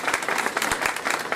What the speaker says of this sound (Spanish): con un fuerte aplauso, la licenciada Julia Castillo Mejía